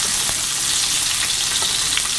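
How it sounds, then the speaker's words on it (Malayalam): Chicken pieces deep frying in oil over low heat, a steady dense sizzle with faint crackles running throughout, close and fairly loud with no voices. "വളരെ ലോയിലിട്ട് വേണം ഫ്രൈ ചെയ്തെടുക്കാൻ."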